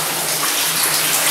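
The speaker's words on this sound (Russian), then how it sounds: "Везде струятся грунтовые воды." Groundwater pours and streams steadily through an abandoned underground tunnel near the tail of a stuck tunnelling shield, a loud, continuous rushing gush filling the space with no voices.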